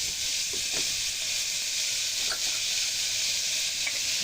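Onions and curry ingredients for a sorakaya tomato curry frying in a pressure cooker pan, a loud, steady sizzle with occasional faint stirring clinks.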